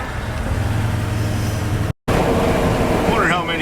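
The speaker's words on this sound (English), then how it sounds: "What would a trip on the interstate be without a nice traffic jam?" Road noise and engine drone inside a 1971 Chevy truck crawling through an interstate traffic jam, a steady close rumble with a brief dropout midway and people talking over it.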